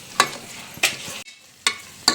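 Pigeon peas (tur dal) stirred in a pan, with a few distinct scraping strokes and a soft sizzle between them, close and fairly loud.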